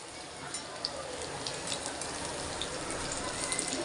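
Banana flower vadas sizzling in hot oil, a soft, even frying hiss that holds steady and faint with no voices over it.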